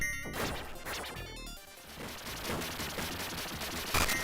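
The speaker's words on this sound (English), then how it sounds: "Sound effects like gunfire, explosions, and enemy roars are punchy and satisfying" Rapid bursts of retro arcade video game gunfire and crashing explosions pile up in a dense, chaotic barrage, loud and continuous with no voices.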